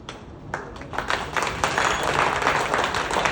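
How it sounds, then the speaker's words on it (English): An audience at a corporate dealers' meet claps, starting with a few scattered claps and building into steady, fuller applause. "everybody will clap as hard as they want their dreams to"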